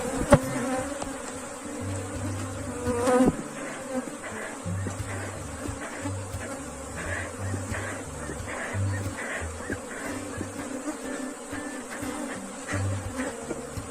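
Africanized honey bees swarm an open wooden hive during beekeeping work, their dense, continuous buzzing loud and close, with occasional individual bees droning past and faint handling knocks.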